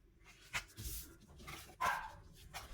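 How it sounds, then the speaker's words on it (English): Dogs bark in a few sharp bursts a short way off indoors, excited because someone has just come home, fairly faint against the room's background. "I don't know if you can hear the dogs barking"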